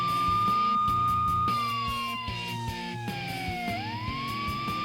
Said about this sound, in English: is that the noise from those police cars with the flashing lights?